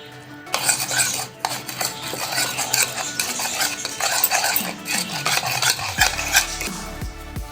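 A spoon clinks and scrapes against a bowl, mixing spices, salt, red chilli sauce and a little lemon juice for a grilled pineapple dish, with close, busy stirring and occasional metallic taps.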